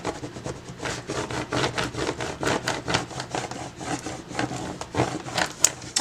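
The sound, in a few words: burnishing Cricut vinyl decal down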